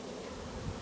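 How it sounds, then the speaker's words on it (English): A swarm of honeybees buzzes in a dense, steady drone with no break, clustering into a ball. The swarm sounds close. "So what they're doing is they're forming a ball right underneath there. The other bees are flying back in."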